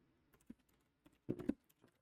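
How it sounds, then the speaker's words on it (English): Soft clicks of a computer keyboard during coding, a few isolated keystrokes followed by a brief quick cluster of taps, quiet and close with no talk. "I guess I'm typing X's instead of C's today."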